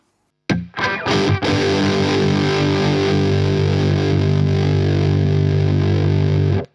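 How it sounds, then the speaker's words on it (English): Heavily distorted electric guitar through an Iron Horse V3 pedal with the gain pushed up, a few sharp strums then a thick sustained chord ringing loud and close until it cuts off. "as you push up the distortion, it thickens up as well"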